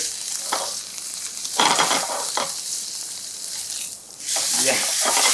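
A lean steak sears over high heat in a pan, giving a loud, close, steady sizzle that swells and dips with occasional movement.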